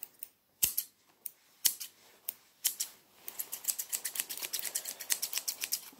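Barbershop scissors snipping hair during a haircut, close and crisp, with scattered single cuts speeding into rapid bursts of snips, no talking.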